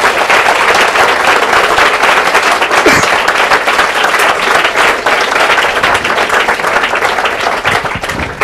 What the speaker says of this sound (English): would you like to give these excellent chaps a round of applause?